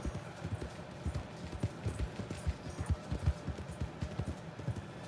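A slow-moving horse trots in Red Dead Redemption 2, with steady, close clip-clop hoofbeats in an even rhythm throughout, alone with no talking over them.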